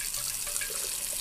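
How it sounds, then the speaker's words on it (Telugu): Water from a bottle is poured out of a train window to rinse it, giving a short, continuous splashing hiss close by with no talk. "ఏంటి అంకుల్ కిటికీ నుంచి కడిగేస్తున్నారు?"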